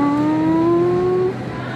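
Synthetic motorbike engine sound from an arcade riding game, a steady rising whine that cuts off abruptly, over a noisy game-room background.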